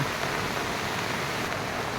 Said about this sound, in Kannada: ಸಖತ್ತಾಗಿ ಮಳೆ ಕೂಡ ಬರ್ತಾ ಇದೆ